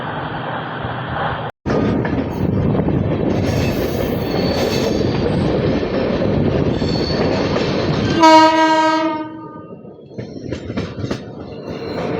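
The Chennai Howrah Mail passenger train rolls along the rails near Chilka Lake with a loud, continuous rumble heard from on board, broken by a short gap early on and a blaring horn blast about two-thirds of the way through.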